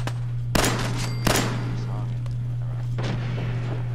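Gunfire in Fallout 4: two sharp, loud shots about a second apart, then a softer third report, all over a steady low electrical hum.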